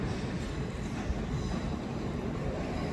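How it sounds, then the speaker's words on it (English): A London Underground S-Stock Circle Line train at Paddington station, a steady loud rumble of the train moving through with broad continuous noise and no speech. "There's the S-Stock. That is on the Circle Line train to Edgware Road via King's Cross."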